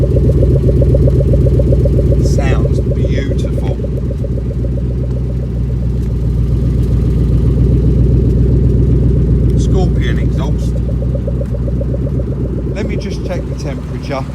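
An MG X Power SVR fitted with a 5.0 Mustang V8 runs close by after a cold start as its choke cuts out, a loud, steady, throbbing rumble that holds even throughout.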